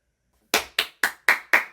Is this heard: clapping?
yes